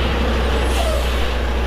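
A loud truck at a rail yard idles with a heavy, steady engine rumble, and a brief hiss-like air sound passes over it, close and continuous throughout.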